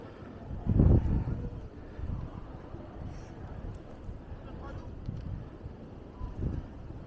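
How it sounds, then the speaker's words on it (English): Wind gusts during a New York City snow blizzard, a low, rumbling buffeting with several louder surges against the microphone, continuous and moderately faint. "So that's the wind there."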